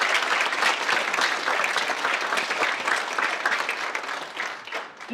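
Audience applause at a high school spring band and choir concert, a dense, continuous round of clapping from a large crowd, steady and fairly close before dipping slightly near the end.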